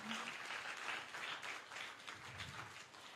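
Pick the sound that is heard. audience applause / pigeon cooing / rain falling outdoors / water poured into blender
audience applause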